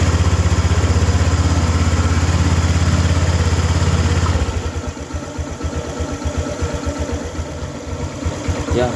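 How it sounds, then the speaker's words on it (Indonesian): A Honda Vario 150 scooter engine idles close by with a steady, throbbing putter; partway through, the tone drops into a lower, more distinctly pulsing chug. "Nyalain mesinnya."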